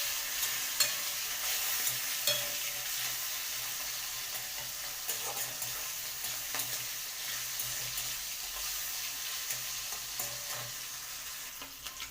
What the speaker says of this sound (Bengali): সাবধান বন্ধুরা, চিংড়ি মাছগুলো কিন্তু তেল ছিটে ছিটে আসছে। এবার এটা হালকা হাতে একটু নাড়াচাড়া করে নিতে হবে।